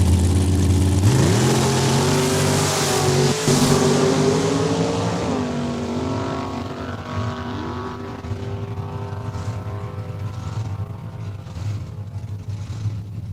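A Super Pro dragster engine at a drag strip roars loud and close, revving with a falling pitch as it pulls away down the track, then settles into a steady distant drone.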